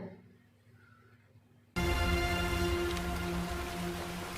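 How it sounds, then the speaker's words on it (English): After a quiet opening, heavy rain suddenly begins, a loud, dense, steady downpour that continues to the end without any speech. "When is the rain is gonna stop?"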